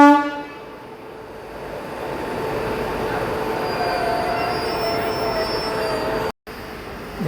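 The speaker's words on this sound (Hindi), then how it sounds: "श्री माता वैष्णो देवी कटरा से कन्याकुमारी के बीच में चलने वाली हिमसागर एक्सप्रेस अपना डिपार्चर लेते हुए" The Himsagar Express pulls out of Warangal station, wheels squealing and wagons rumbling close by in a loud, continuous roar, with a brief horn-like tone at the very start.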